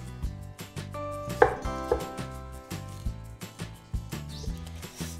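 A knife cuts the stem off a chile pepper and slices it in half on a cutting board for a northern Mexican discada, producing a series of sharp, close chopping taps.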